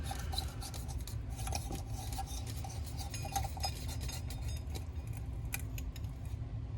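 Scraping, grinding rasps and light clinks of a 20-watt CFL bulb being twisted into a wall sconce socket, continuous and close over a low background rumble.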